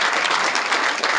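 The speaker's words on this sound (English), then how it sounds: "Now, go ahead and clap." Audience applause at the Nebraska Steak Fry 2022, a political rally: dense, steady clapping from a large crowd sustained evenly for the full moment, loud and close with no voices rising above it.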